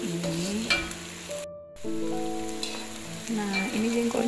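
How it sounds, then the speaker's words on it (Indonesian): Pre-boiled jengkol beans frying half-done in oil in a pan, a loud continuous sizzle with stirring clatter, steady throughout. "Ini kita goreng setengah matang aja, nggak usah sampai kering kali."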